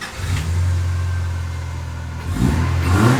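Car engine of a homemade Subaru rally build fitted with a cold air intake, idling with a low steady drone before revving up near the end, close and loud with no talk.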